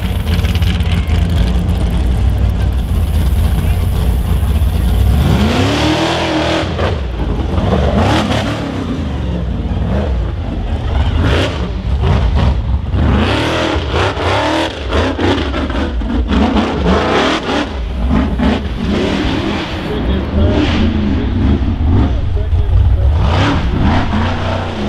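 Rock bouncer off-road race vehicle at a rock racing event, its engine loud and close, revving hard in repeated surges with a continuous roar and rising whines throughout.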